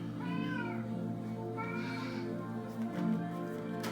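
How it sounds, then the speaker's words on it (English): A house cat meows several times at close range, drawn-out rising and falling calls over a low indoor hum. "Sorry for my cat."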